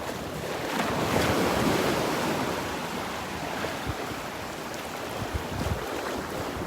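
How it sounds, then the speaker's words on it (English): Ocean surf breaking on a Gulf beach at Delnor-Wiggins, a steady broad wash of waves with wind buffeting the microphone, fairly loud and continuous with no talking. "I'm out where the waves are breaking"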